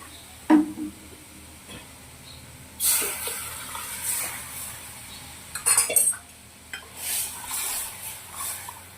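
A spoon scrapes and clinks in a pot of Kathiyawadi buttermilk kadhi in a few short bursts, separated by quiet pauses.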